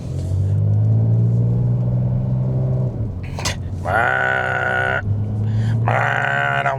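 Porsche 911 Turbo S in sport mode, its engine rumbling loud and close with two strong revving surges of acceleration, a brief pause between them.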